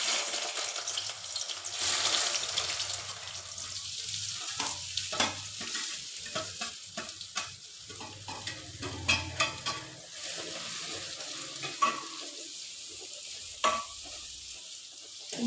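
Ivy gourd and green chillies stir-frying in a pan, a steady soft sizzle punctuated by repeated scraping and clacking stirs, close and fairly quiet with no talk.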